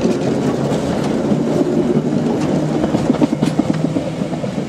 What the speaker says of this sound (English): So as the train disappears into the distance